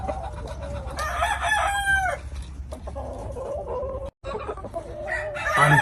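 A Kearney White Hackle gamefowl rooster crows loudly and close by, one long drawn-out call with other clucking fowl and farmyard noise behind it in a feeding-time setting.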